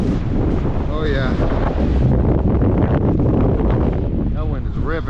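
High winds buffet the microphone outdoors during a Starlink dish tree install, a loud constant roar and rumble throughout, with brief faint voice-like tones rising through it.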